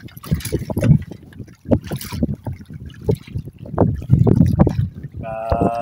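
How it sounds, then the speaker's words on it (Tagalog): Strong gusty wind buffets the microphone in rough bursts during a fishing outing, with a voice talking through it and a steady tonal hum near the end. "Pasensya naman ako sa medyo maingay. Yung hangin kasi malakas."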